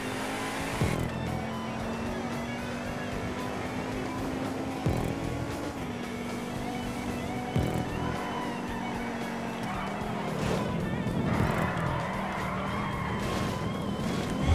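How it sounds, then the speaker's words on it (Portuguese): A car sliding on snow in the video game GTA V, with a continuous engine drone, tire skids and squeals, and occasional bumps and revving swells across the whole stretch, no talking. "Roda liso aqui o carro."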